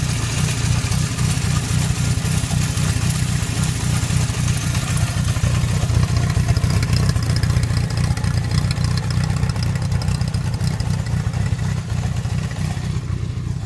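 A Honda CB750 cafe racer motorcycle with a rattly engine and a broken choke idles steadily and close by. It keeps up an even low throb throughout, with no talking.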